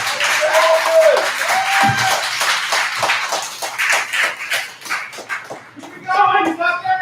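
An audience at a poetry event claps and cheers for a poet, a moderate, uneven spatter of hands mixed with whoops and voices, with a short cry rising near the end.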